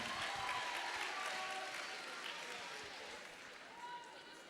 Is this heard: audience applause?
yes